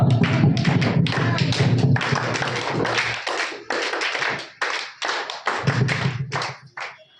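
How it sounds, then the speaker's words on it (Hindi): A classroom of children at a Sunday spoken-English class claps loudly for a student called up to perform, with close, rhythmic bursts of hand claps that pause briefly and start again in uneven waves. "राज के लिए जोरदार होगी ताली हो जाए"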